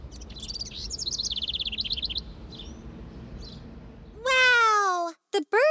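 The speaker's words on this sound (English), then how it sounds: "small birds are twittering from the tree branches" Cartoon small birds twitter in a park, bright chirping trills in the first two seconds, then a loud sweeping run of rising tweets and short chirps near the end, over a low background hum.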